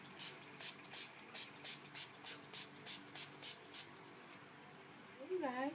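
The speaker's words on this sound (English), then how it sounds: "NYX Matte Finish Setting Sprays, just to make sure that nothing moves and that this stays matte" NYX Matte Finish Setting Spray is misted onto a face in about fourteen short, evenly spaced pumps, each a crisp close hiss, followed by a brief rustle at the end.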